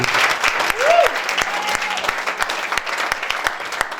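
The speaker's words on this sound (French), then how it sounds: "Est-ce qu'on peut acclamer Dieu?" A church congregation bursts into sustained applause, dense rhythmic clapping with a few loud individual claps and a whistle or cheer rising briefly near the start, voices mixed in throughout.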